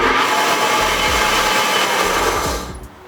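A drill press from the 1930s, nearly a century old, runs with a steady loud motor whir and rumble in a garage woodworking shop, then winds down and fades near the end.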